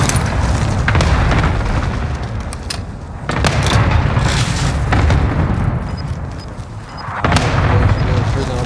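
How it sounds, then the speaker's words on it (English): Heavy booms and rumbling blasts from an airstrike in a battle royale video game, loud and continuous with bursts of explosions rolling over one another across the whole stretch. "Put an airstrike on the bar."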